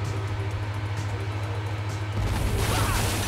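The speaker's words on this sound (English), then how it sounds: "The explosions in this game are pretty good." In the game GTA 5, a steady engine drone gives way to a sudden blast with crashing debris, loud and close.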